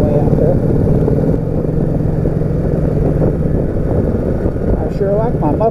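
Motorcycle engine with slightly modified mufflers, a loud, steady low rumble running throughout as the bike cruises, with a voice faintly heard near the end.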